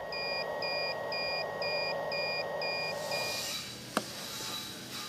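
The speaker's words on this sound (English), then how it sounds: "you will shortly get an audible alarm as the filter is so clogged that the airflow level cannot be maintained" A powered welding mask respirator sounds its clogged-filter alarm as a series of evenly spaced, high electronic beeps over a steady fan hum, stopping after about seven beeps, followed by a rustle and a brief click.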